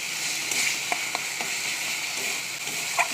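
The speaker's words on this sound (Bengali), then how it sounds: "কড়াই তেল দিয়ে পেঁয়াজ, আদা, রসুন, কাঁচা লঙ্কা পেস্ট করে নিয়ে দিয়ে দিয়েছি।" Onion, ginger, garlic and green chili paste fry in oil in a wok, giving a steady broadband sizzle with a few soft stirring clicks, close and continuous with no talk.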